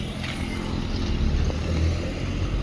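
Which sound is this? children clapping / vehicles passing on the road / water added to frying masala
vehicles passing on the road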